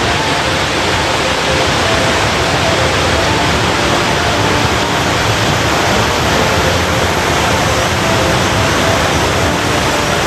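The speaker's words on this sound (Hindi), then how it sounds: "यहाँ से सामने जो वाटरफॉल दिख रहा है ना, वो हेमकुंड साहिब वाले रास्ते पर है।" Dense, constant roar of a waterfall beside the Hemkund Sahib trail near the Valley of Flowers, a loud unbroken rush with no pauses or voices.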